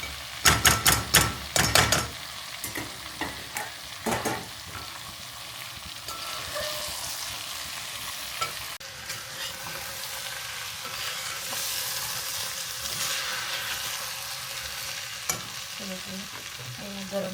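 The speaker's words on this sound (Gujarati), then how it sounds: "હવે રાઈસ નાખી દઈશું ઉપર મિક્સ કરી દઈએ" Rice is stirred into cooked potatoes in a pot: a burst of sharp utensil knocks against the pot at the start, then a continuous soft sizzle and scraping stir runs to the end.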